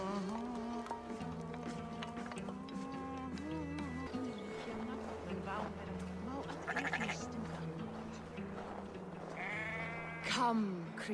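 A flock of sheep bleats repeatedly in Assassin's Creed Valhalla at the foot of a sleeping giant before a ritual pyre is lit. The overlapping wavering cries sound moderately loud over a faint insect-like buzz and ambient noise.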